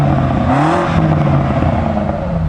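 Hybrid BMW M5 G90 accelerating hard, a loud close engine note rising and surging in pitch through the run, with no talk over it.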